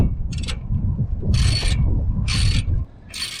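A ratchet wrench clicks in several bursts, tightening bolts on an RV leaf spring, with a steady mechanical grind beneath, close and loud.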